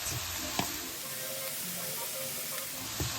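Ground beef sizzles steadily in a skillet as it is stirred, a dense continuous hiss with a couple of sharp spatula scrapes against the pan, close and alone with no voices.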